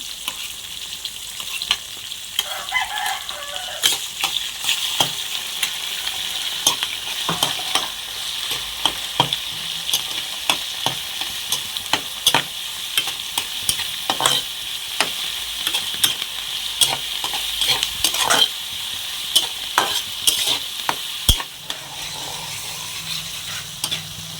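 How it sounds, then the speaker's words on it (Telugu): Carrots and mixed vegetables fry in a pan for capsicum rice, giving a constant close hiss of oil with frequent sharp scraping and tapping of a stirring spoon, with no talking. "మొత్తం ఒకసారి వేసేసి ఫ్రై చేసుకుంటున్నాను"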